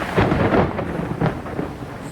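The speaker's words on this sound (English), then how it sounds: "Now it's pouring rain and thundering and lightning." Thunder rumbles through pouring rain outdoors, with a heavy, continuous downpour and a loud, close roll of thunder building and fading over a couple of seconds.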